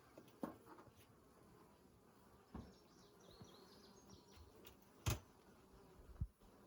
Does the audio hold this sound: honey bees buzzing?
yes